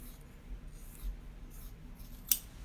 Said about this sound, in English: So I'm just going to cut this at an angle.